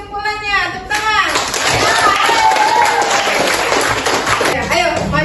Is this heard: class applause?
yes